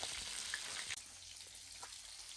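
Fish frying in hot oil gives a steady, fairly quiet sizzling hiss with small crackles throughout, heard alone without voices.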